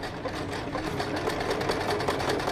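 A portable compact sewing machine runs an embroidery stitch with a rapid, steady mechanical whir and needle clatter, close up and continuous throughout.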